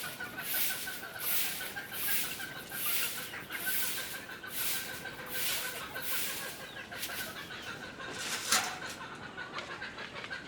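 Loose farm hens wandering free on a quail and gamefowl farm, clucking steadily at close range in a busy, continuous chorus with overlapping calls, one sharper squawk near the end.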